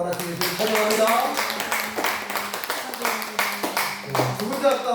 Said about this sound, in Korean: 우리 축하하고 감사하며 기뻐하는 마음으로 우리가 박수 한번 할까요?